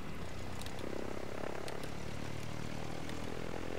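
A Cessna 172 propeller engine in Microsoft Flight Simulator X drones steadily in flight between Southampton and Shoreham on England's south coast, a constant loud hum and buzz with no talk over it.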